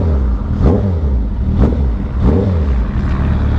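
A Suzuki Hayabusa motorcycle engine pulls steadily and loudly at close range, a dense low drone that swells in repeated waves as the bike accelerates, with no voices over it.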